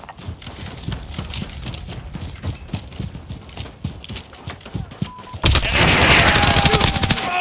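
Video game gunfire in Call of Duty Modern Warfare: rapid clattering footstep-like taps give way to a loud, dense burst of shots and blasts in the final seconds, close and sustained.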